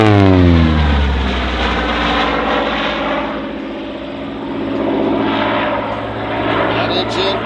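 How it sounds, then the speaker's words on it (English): A Hawker Sea Fury's Centaurus 18-cylinder air-cooled radial piston engine, over 2,400 horsepower, roars loudly and steadily at an airshow in London as the aircraft passes, the throbbing drone swelling and easing slightly, with a commentator's voice over it. "Centaurus 18-cylinder air-cooled radial piston engine"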